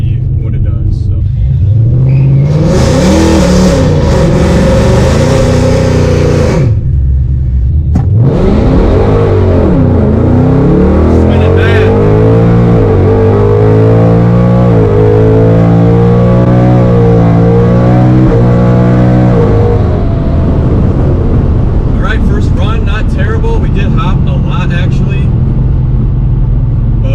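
A supercharged S650 Mustang with a 10-speed transmission launches in drag mode with traction control off, a very loud engine roar rising and falling through gear shifts, heard alongside talking.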